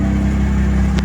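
Rebuilt, previously wrecked 2023 Toyota Supra driving under its own power for the first time, a steady loud engine drone heard up close, brief and continuous.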